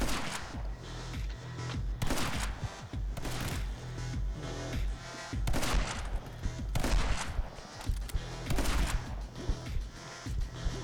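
Gunfire from the video game My Friend Pedro: rapid bursts of game-sound shots in quick volleys with short pauses, loud and punchy, layered over music.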